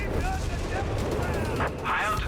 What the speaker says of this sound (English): Redxwings is absolutely whiz-banging it